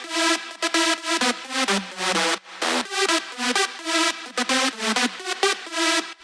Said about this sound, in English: This is the actual drop melody itself. This is the main lead.